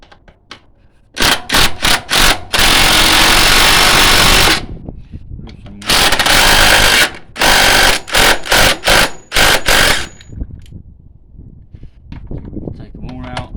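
A small impact driver removes the 30mm top strut bolts on a 2009 Renault Megane. It fires in loud, close rattling bursts, some short and one several seconds long, separated by quiet gaps.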